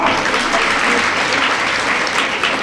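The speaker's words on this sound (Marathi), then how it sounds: "सर्वांनी जोरात टाळ्या वाजवा" An audience at a jewellers' event in Pandharpur claps loudly and continuously, a dense steady roar of hands lasting the whole moment.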